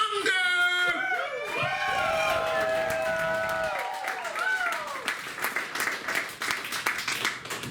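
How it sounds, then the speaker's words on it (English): A comedy club audience breaks into loud applause and cheering, with whoops over sustained clapping, while a bright musical sting rings out over the first few seconds before the clapping carries on alone. "I want everybody to give a big round of applause for the mysterious Kris Munger!"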